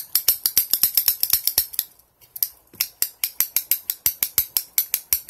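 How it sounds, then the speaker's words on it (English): A small switch on a twisty puzzle fidget toy clicks rapidly and evenly, close and crisp, in a fast train of snaps with a brief pause midway, like a pen being clicked over and over; no talking. "Then we got the little clicking side."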